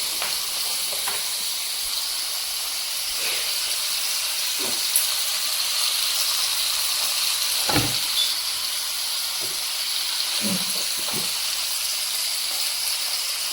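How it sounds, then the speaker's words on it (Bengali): Potatoes sizzle in spiced oil tempering, a continuous loud hiss of frying with occasional thumps and scrapes of a spatula stirring in the pan, and no talking. "আলুগুলো দিয়ে দিলাম ফোড়নের মধ্যে।"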